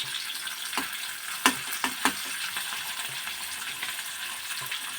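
Onion sautéing in a pan with tomato being added, a steady low sizzle throughout with a few sharp stirring knocks near the start; no talk.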